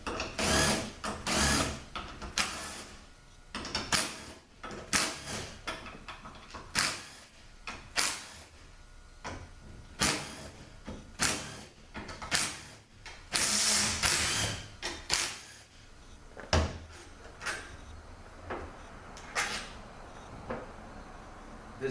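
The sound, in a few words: taking a section off a Toyota AB60F valve body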